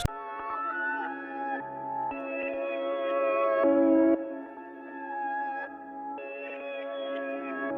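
A dark piano melody played in reverse, with swelling reversed attacks and heavy 3D reverb smearing sustained tones into a moody wash, steady and moderately loud with no talking.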